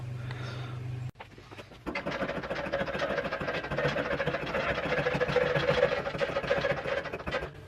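A Honda Supercub's small single-cylinder engine is started and runs at a steady, busy idle with a rapid mechanical patter and slight knocking, close by in a cold garage, after a brief earlier hum cuts off.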